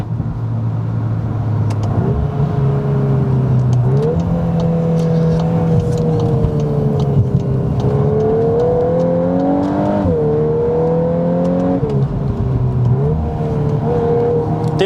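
A 2021 VW Golf R accelerates hard, its engine droning and climbing in pitch through several gear changes with brief dips between shifts, loud and steady from inside the cabin.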